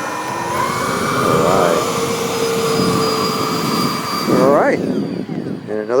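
A Freewing T-33/P-80 Shooting Star RC electric ducted-fan jet taxis in at an RC airfield, its high fan whine steady and close, then rising and falling in quick sweeps as the throttle is blipped; someone talks over it.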